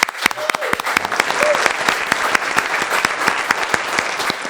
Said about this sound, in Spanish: los aplausos son en vivo